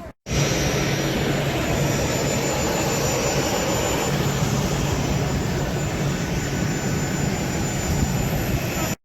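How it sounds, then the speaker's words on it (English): A loud, steady roar of a Ryanair jet airliner's engines at Dublin Airport, continuous and close, with a broad rushing whine and no other sounds. "Ryanair planes."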